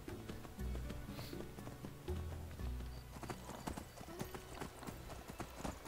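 Horse hooves clip-clopping while riding in the game Skyrim, a close, steady run of rhythmic hoofbeats with low thuds and clicks, continuous and loud, with no talking.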